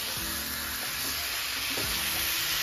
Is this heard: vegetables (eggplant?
yes